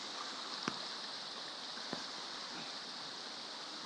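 Floodwater rushing after a typhoon, a steady broad roar of churning water heard from nearby, with two brief sharp knocks partway through and no talking.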